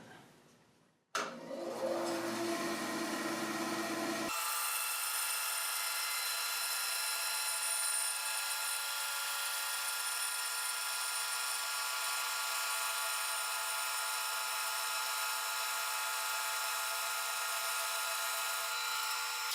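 An Accu-Slice jig guides a saw through wood, slicing a veneer ten thousandths of an inch thick; a brief clatter gives way to a loud, steady whining cut that runs on unbroken, with no voices.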